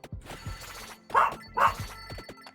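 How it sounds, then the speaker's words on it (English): Winston, a dog in a video game, gives two sharp barks in the middle of a quiet scene, set against faint background game sounds. "Winston, what are you barking at, dude?"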